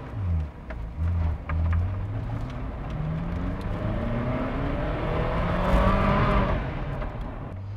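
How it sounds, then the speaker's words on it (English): Ferrari F40 V8 engine accelerating, a steady rising drone building in pitch and loudness to a peak near the end, heard from the cabin with no talking. "The music itself is all from the V8"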